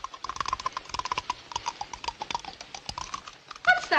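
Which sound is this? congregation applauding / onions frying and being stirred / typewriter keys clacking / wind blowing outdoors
typewriter keys clacking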